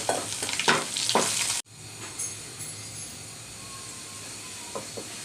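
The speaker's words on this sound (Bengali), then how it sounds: "এবার দিয়ে দিচ্ছি তিনটা শুকনা মরিচ" Dried red chillies dropped into hot oil for beef kala bhuna, a loud burst of sizzling and stirring that cuts off abruptly, then a quieter steady frying hiss with faint clinks.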